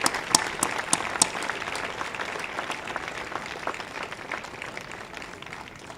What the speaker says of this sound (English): Let's give her a rousing round of applause.